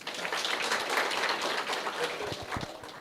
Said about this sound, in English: Ladies and gentlemen, give them a round of applause, please